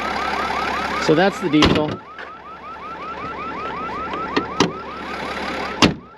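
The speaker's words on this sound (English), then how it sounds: "And an alarm is going off." A car alarm blares outdoors in a parking area, cycling through rapid repeating warbling chirps at a moderate distance, with brief speech and a few sharp knocks over it.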